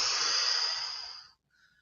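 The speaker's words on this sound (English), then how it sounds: "I hope you can hear my breathing." A long, loud breath pushed out through the mouth during a yoga stretch in a fitness workout, a steady airy rush lasting over a second before fading into near silence, close to the microphone.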